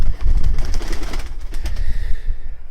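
Racing pigeons coo close by in a chorus of soft, throaty calls, overlapping with wing flutters and rustling in a busy coop.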